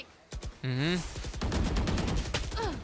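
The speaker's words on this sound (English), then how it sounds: "Just planting right in the gunshots." Rapid bursts of gunfire from the tactical shooter Valorant crackle almost continuously during an esports match, dense and loud, with a voice talking over the shots and a brief whistling tone.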